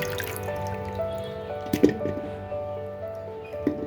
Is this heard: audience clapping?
no